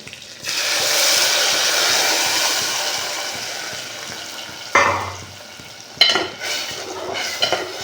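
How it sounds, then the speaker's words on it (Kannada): Peppercorns frying in a pan for rasam, with ground tomato tipped in: a steady hiss and sizzle that bursts louder as the purée hits the hot oil, followed by a few sharp clinks of a spoon stirring against the pan. "ಇದಕ್ಕೆ ನಾನು ಟೊಮೆಟೊ ರುಬ್ಬಿಟ್ಕೊಂಡಿದ್ದೀನಲ್ಲ, ಅದು ಹಾಕೊತಾ ಇದ್ದೀನಿ"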